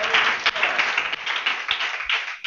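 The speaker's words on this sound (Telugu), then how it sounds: "నమ్మితే చప్పట్లు కొట్టండి గట్టిగా" A youth meeting audience at a church gathering claps in a dense, steady patter of many hands that stays even before fading out.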